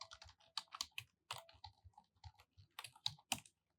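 Typing on a computer keyboard while writing React code, with quick irregular bursts of close, crisp key clicks and short pauses, heard alone without any voice.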